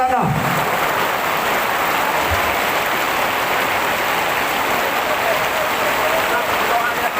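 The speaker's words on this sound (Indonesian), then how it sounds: "Biar hujan ini turun bawa berkah." Heavy rain pours steadily onto an outdoor religious gathering for an Isra Mi'raj sermon, a dense continuous hiss that stays loud throughout, with faint voices underneath.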